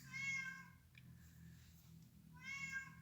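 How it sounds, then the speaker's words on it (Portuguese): A cat meows inside a Baptist church during a sermon, two clear, fairly faint meows about two seconds apart over a quiet room. "Tem um gato aqui, irmãos, me desculpa, tá?"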